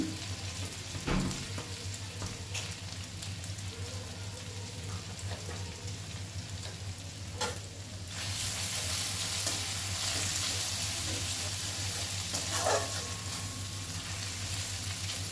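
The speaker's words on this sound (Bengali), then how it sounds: "ভালো করে একটু নাড়াচাড়া করে নিলাম।" Asafoetida sizzles in hot oil as it is stirred in a pan while cooking chana dal, giving a constant crackling fry with occasional scraping knocks of the spoon. It is quiet and close, with no talking.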